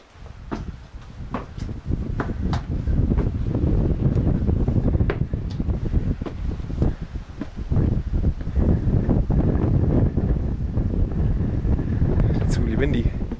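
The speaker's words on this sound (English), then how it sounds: "Windy." Strong wind gusts buffet the microphone on top of a castle ruin tower in Alsace, France, a steady roaring rush with sharp pops and clicks throughout.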